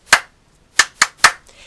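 Hands clap sharply once, then three more claps follow in a quick, evenly spaced run, loud and close in a quiet classroom setting.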